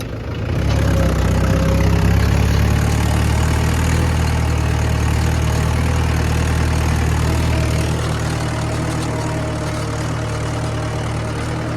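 A tractor engine pulling a cultivator through a field runs steadily under heavy load, a loud low rumbling drone with a constant mechanical hum and no voices.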